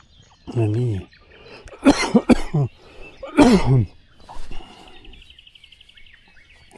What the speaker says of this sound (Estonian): Siin köhin natukene.